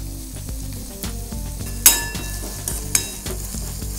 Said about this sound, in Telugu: Onions transparent colour, golden colour వచ్చే వరకు ఫ్రై చేసుకోవాలి.